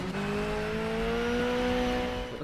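A video game racing car engine drones at a steady high pitch, a smooth, slightly electronic whine holding constant throughout the short stretch.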